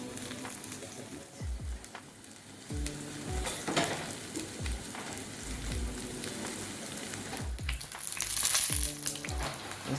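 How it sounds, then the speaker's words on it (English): Saltfish fritters frying in oil in a pot, a steady close crackling sizzle with bursts of popping and occasional stirring or utensil sounds throughout. "So it's frying nicely."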